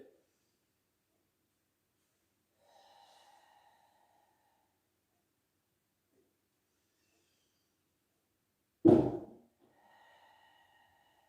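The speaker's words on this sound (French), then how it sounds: "J'inspire." A breath drawn in during a Pilates session: a soft, airy intake, then a sharper, louder rush of breath, with faint breathy noise trailing after in an otherwise quiet room.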